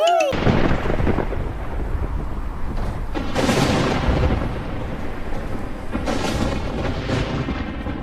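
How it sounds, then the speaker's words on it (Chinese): Thunder in stormy weather opens with a sharp crack, followed by deep, heavy rumbling rolls that swell and fade several times, loud and close over a continuous low roar. "总是打雷下雨，这样的鬼天气，可真是让人燥得很。"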